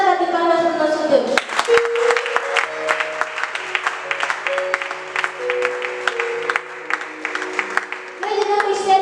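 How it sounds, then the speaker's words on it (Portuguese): A church congregation clapping in praise to God during a sermon, a steady rhythmic patter of many hands running for several seconds between stretches of a speaker's voice at the start and end, with musical tones sustained underneath. "Uma salva de palmas para o nosso Deus"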